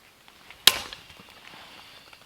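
Dry twigs crackle in a small breakfast fire inside a firebox camp stove, one sharp, close snap standing out over a quiet bed of faint, scattered pops and ticks.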